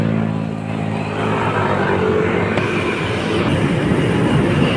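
An LRT train rumbles past steadily, with a low, continuous rolling roar and faint rail clatter throughout, fairly close and loud.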